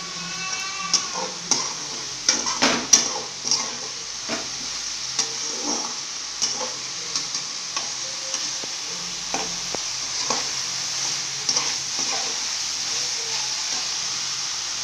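Salt and turmeric being sautéed in a pan for a chena karuvadu (dried fish) fry, with a steady sizzle under repeated scraping stir strokes at close range, no voices.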